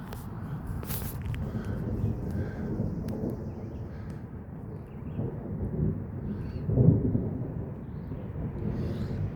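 Thunder rolls during a light thunderstorm outdoors, a low, distant rumble that swells and fades over several seconds, with faint wind and a few nearby rustles.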